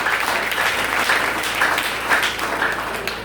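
A church congregation applauds at a Nazarene service, a loud, dense, steady clapping that fills the whole stretch.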